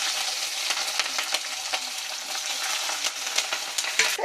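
Green chillies frying in hot oil in a pan, a bright continuous crackling sizzle close by with quick popping spatters throughout, no talking.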